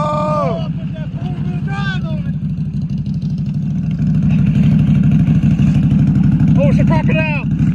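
A Can-Am Renegade XMR 1000 ATV on juggernaut tires churns through mud, its engine a loud, steady, close rumbling drone that swells toward the end, while people shout and talk over it.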